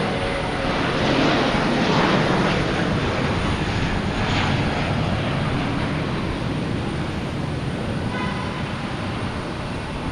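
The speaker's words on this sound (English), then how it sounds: "We have a JetBlue heading to Fort Lauderdale, an A320." JetBlue Airbus A320 taking off from Boston Logan, a loud, sustained broadband engine roar that swells and then holds steady throughout, with no one talking over it.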